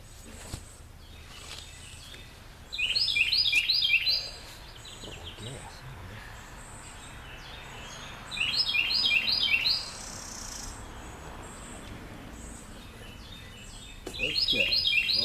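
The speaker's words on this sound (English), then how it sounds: "there's a loud bird out there." A loud bird outdoors gives a shrill, repeated chattering call in three separate bursts, with quieter outdoor ambience between them.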